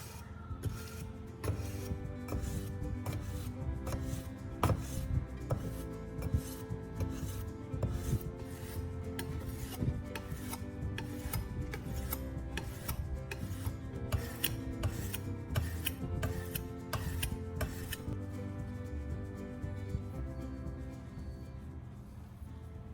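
A small fruit knife blade is drawn repeatedly against an old battery to sharpen it, giving a steady series of faint, rasping metallic strokes in an even rhythm, close and quiet.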